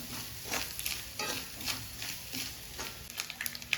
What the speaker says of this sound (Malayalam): അതും ചേർത്ത് ഇളക്കി കൊടുക്കുക ഇത് നല്ല ചുവക്കെ വറക്കണം കേട്ടോ